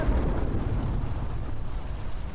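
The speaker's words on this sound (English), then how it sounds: "Wait for the explosion." A tank explodes in the Call of Duty: Modern Warfare Remastered campaign, a loud, sustained low rumbling blast with dense noise that stays heavy for a couple of seconds.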